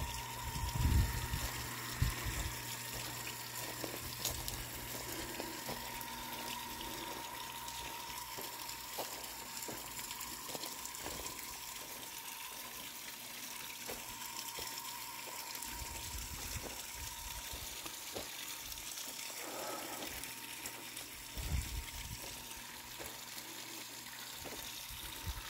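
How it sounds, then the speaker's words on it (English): Steady rushing, gurgling water runs continuously at moderate level, like a pump circulating, with a few soft knocks and splashes along the way. "That skimmer's been making noise ever since you left."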